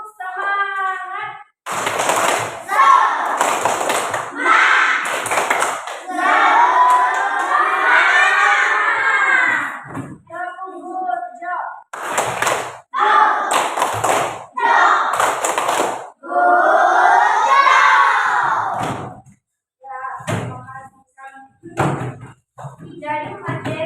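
Fourth-grade primary school children in an Indonesian classroom chant loudly in unison, punctuating their chant with sharp bursts of group clapping in a repeating rhythmic pattern, with brief pauses between phrases.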